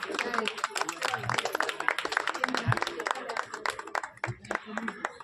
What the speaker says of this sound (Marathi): जोरदार टाळ्या झाल्या पाहिजेत।